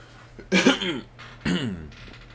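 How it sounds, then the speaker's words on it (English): A man coughs twice at close range, each a harsh burst followed by a rasping tail, over a steady low hum. "Apologies in advance for the coughing."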